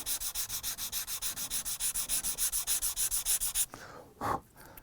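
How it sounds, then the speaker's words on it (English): A sanding stick chamfers the edge of a model ship's bow part in about two dozen quick, even back-and-forth rasping strokes, close and steady, then stops for a short soft puff of air. "Again, a few seconds with the sanding stick."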